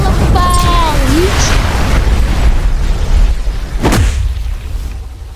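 A Hollow Purple attack explosion in a video game bursts loudly, with a booming blast and a sharp crackling burst near the end, layered over whooshing effects and continuous game noise.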